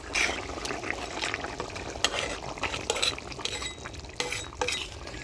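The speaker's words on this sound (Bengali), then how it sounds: "তরকারির ঝোল জাল হয়ে আসছে, এবার ভাজে রাখা রিঠা মাছগুলো দিয়ে দিই।" Fried rita fish goes into a simmering potato curry in a Bengali village kitchen, giving a steady sizzling bubble with scattered clinks and stirring sounds close by and no speech.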